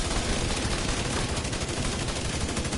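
Dense, continuous automatic gunfire from the video game The Division 2, a loud unbroken rattle of rapid shots filling the whole stretch with no talking.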